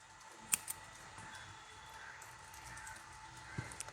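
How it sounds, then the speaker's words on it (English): Scissors snip through green crochet yarn in a quiet room, a single sharp, faint cut close by, with a small click just after. "now chain 1 and cut the green yarn"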